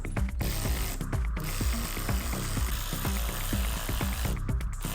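Ratchet wrench cranking on the plastic mount bolts of a Bestop Sunrider soft top on a Jeep Wrangler JL, a steady run of close, rapid clicks with two short pauses.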